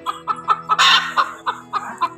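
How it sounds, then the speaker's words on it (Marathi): A hen clucks after laying an egg on a Konkan farm. Sharp, close clucks repeat in an even rhythm about four times a second, with one louder drawn-out squawk partway through. "ती कोंबडी ओरडते तर तिने ना अंड घातलंय."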